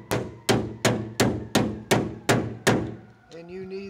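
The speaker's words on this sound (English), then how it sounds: "I've been trying to hit it with a hammer" Seven sharp, evenly spaced hammer blows strike a flat-head screw during a van window replacement, each a hard metallic knock with a brief ringing decay, loud and close, followed by a short tonal scrape at the end.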